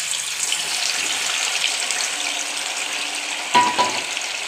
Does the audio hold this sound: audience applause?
no